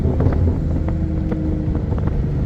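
A Nissan R35 GT-R under hard driving on a spirited run, its engine note dense and continuous with wind buffeting across the microphone, a few sharp blips suggesting downshifts.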